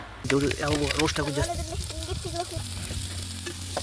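Mackerel fries in a pan with a crackling sizzle that continues beneath a person speaking close by.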